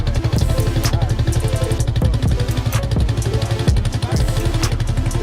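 A 2020 Bashan Storm 250 dirt bike engine runs loud and close on concrete, giving a steady, rapid mechanical chugging with a constant clattering rhythm.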